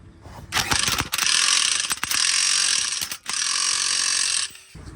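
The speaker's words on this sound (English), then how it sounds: "Then we take the Ugga Dugga gun." A pneumatic impact gun drives a clutch bolt on a 2023 CFMOTO UForce 1000 UTV during an RNG clutch kit install, hammering loudly in two long bursts with short rattling starts and a brief pause between.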